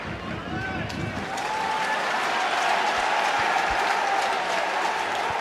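A football stadium crowd at Rugby Park for a Killie versus St Mirren match breaks into sustained applause and cheering, a dense continuous roar of clapping that swells and holds steady throughout.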